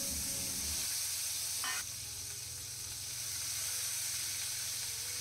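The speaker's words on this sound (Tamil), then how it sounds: "இந்த ரசத்துக்கு வந்து எண்ணெயில் கொஞ்சமாக கடுகு, சீரகம், பச்சை மிளகா, ஒரு பச்சை மிளகா, 2 சின்ன சைஸ் தக்காளி, கருவேப்பிலை சேர்த்துட்டு" Mustard seeds, cumin, green chilli, small tomatoes and curry leaves sizzle in hot oil for garlic rasam, giving a steady, soft frying hiss with a brief stir partway through and no talking.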